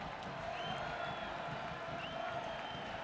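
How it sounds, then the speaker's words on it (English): Football stadium crowd at a USA versus Jamaica Gold Cup match, a steady murmuring buzz of many distant voices with a couple of faint whistles rising over it. "that incident has certainly got the crowd buzzing a bit"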